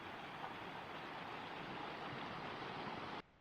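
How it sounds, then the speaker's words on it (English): The Gardner River in Yellowstone National Park, barely more than a small brook, flows with a steady, soft broadband rush of water heard close and alone, cutting off abruptly at the end. "The Gardner River. Barely more than a brook at this stage."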